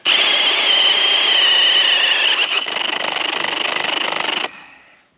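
A Milwaukee cordless drill boring with an auger bit whines loudly and steadily for several seconds, with a brief change in pitch midway, then spins down and stops.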